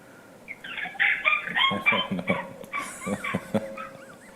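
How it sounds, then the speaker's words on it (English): A dog barks and whimpers during a video meeting, a burst of yips and bow-wows followed by high, wavering whines, close to the microphone and loud, standing clear of a quiet background. "Is that George's dog?"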